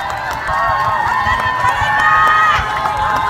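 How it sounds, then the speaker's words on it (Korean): A crowd at an outdoor concert at the Daecheongho cherry blossom festival cheers and shouts loudly and continuously, with many voices blending into a dense roar close by. "박수로 함께 해주십시오"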